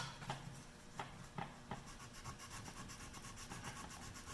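Hand sanding a wooden gun stock with 80 grit sandpaper, a close, quiet rhythmic scraping in short strokes, about two or three per second, with no talking.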